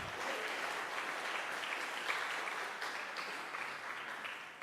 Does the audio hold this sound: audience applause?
yes